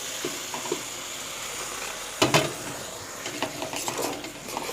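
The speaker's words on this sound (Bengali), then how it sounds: "এবার আমি জল ঢেলে দিচ্ছি।" Hot water goes into a pan of frying cauliflower dal, a soft hiss of sizzling followed by a sudden louder splash and bubbling burst, then scattered crackles and utensil scrapes.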